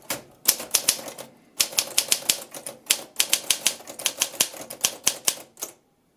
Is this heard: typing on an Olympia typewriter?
yes